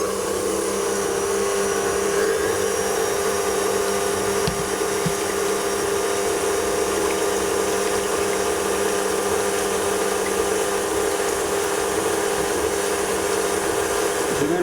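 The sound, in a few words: electric stand mixer beating at maximum speed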